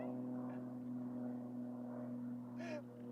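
A tiny airplane flying overhead, a faint, steady propeller drone holding a low hum throughout, with brief vocal sounds breaking in near the end.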